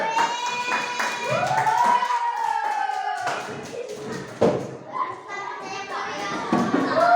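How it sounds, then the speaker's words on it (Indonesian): Children in a classroom clap for a classmate, uneven bursts of claps mixed with lively chatter and high young voices close by. "Tepuk tangan buat Alvin."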